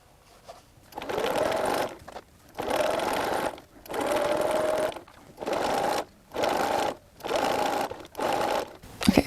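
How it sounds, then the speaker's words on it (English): A sewing machine runs a very tiny zigzag stitch along a hem on a sparkly gown bodice, in seven steady bursts of whirring with short pauses between, close and loud, with no voices. "now I overcast it with a very tiny zigzag stitch"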